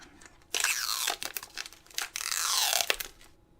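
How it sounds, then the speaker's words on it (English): Plastic wrapping being torn and crinkled off a headset charging cradle, close up, in two loud bursts of crackling rips separated by short pauses. "So let's take off that plastic."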